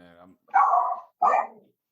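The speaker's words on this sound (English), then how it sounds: "Even the dog says so." A dog gives two close, loud barks in quick succession after a brief voiced sound, with silence in between.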